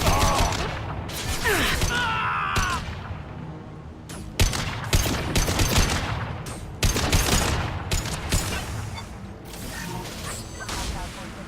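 Gunfire in the video game Mass Effect 2, sharp bursts of rapid shots and blasts in uneven clusters, loud and close, with brief gaps between volleys.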